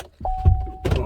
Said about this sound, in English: No express up on the other windows, just express down.